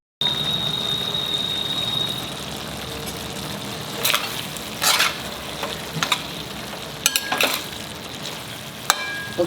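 Brinjal curry cooks in a pan with a low, steady simmering sizzle, broken by several short scraping stirs and clinks of a spoon against the pan in the second half.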